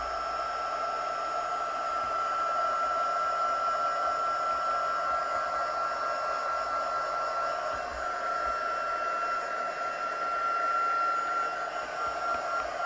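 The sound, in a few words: heat tool blowing on card-making layer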